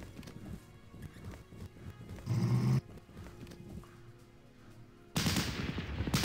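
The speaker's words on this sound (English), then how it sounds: "MG34 versus the Lewis gun" Dueling MG34 and Lewis machine guns in a WW1 strategy game, rattling bursts of automatic fire with a loud burst midway and another at the end, amid a busy battle mix that includes horse-like clip-clop.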